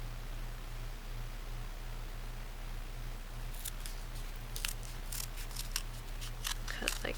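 Scissors snipping paper to make paper snowflakes, a quick series of crisp close cuts in the second half over a low steady hum, with a voice talking faintly nearby.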